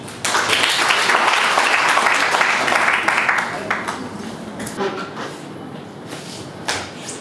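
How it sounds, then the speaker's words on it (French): Guests at a civil wedding ceremony break into strong applause that holds for about three seconds, then thins into scattered claps and shuffling movement in the room. "On applaudit une fois de plus, s'il vous plaît, applaudissements de la gloire"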